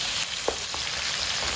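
Sliced shallots and cinnamon fry and get stirred in a pan for Malaysian sambal chicken, giving a steady close sizzle with a couple of soft stirring scrapes and no talking.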